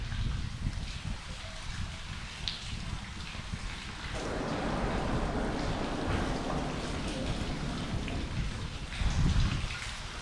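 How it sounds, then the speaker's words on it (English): Heavy rain falls continuously during a fishing outing, with deep rumbling thunder building partway through and a louder swell near the end, dense and steady throughout. "Loud thunder, heavy rain."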